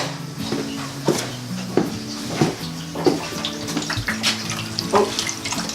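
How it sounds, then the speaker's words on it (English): Water trickles and gurgles through household plumbing pipes during a bathroom renovation, a steady running flow near the microphone with faint tonal hums and a few soft knocks, no talking. "Oh, you can hear the water trickling down."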